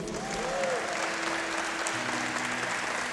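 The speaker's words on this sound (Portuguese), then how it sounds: "Você pode aplaudir mais forte ao Senhor?" Church congregation applauding during a worship service, a brief steady spatter of clapping from a crowd with a voice briefly audible over it.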